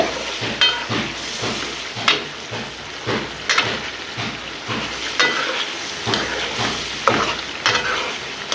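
Bottle gourd greens with snakehead fish being fried and stirred in a pan, a continuous sizzle broken by regular scraping stirs roughly every half second, close and fairly loud, with no talking.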